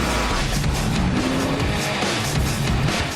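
Movie car chase from the film Drive, with a racing car engine roaring and tires squealing in a skid, loud and close, continuous throughout.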